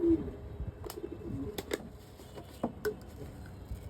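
Domestic pigeons coo softly in a low, repeated murmur, with scattered faint taps and rustles nearby and no voices.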